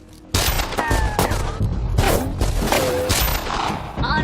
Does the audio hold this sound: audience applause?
no